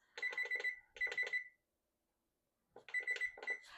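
A kitchen timer alarm goes off in a home kitchen, sounding rapid clusters of sharp electronic beeps in quick groups, a silent pause, then more beeping, close and clear.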